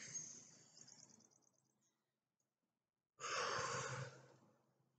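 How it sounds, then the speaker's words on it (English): Two long, breathy exhales during a breathing exercise, each a soft airy rush that fades out, separated by a short silence, close and clear with no talking over them. "breathe out."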